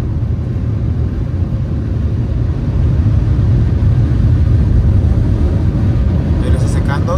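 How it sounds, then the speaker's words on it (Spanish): Automatic car wash air dryer blasting over a car, a loud steady roaring rush of air that gets stronger partway through, with someone talking over it. "Ahí está empezando a soplar el... Ahí está quitando, ahí está secándolo."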